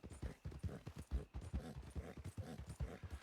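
Horse hooves clip-clop in a western roleplay video game, close and steady, with hoof beats coming in a quick, regular rhythm.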